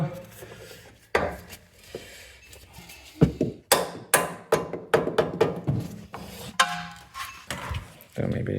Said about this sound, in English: try with my little hammer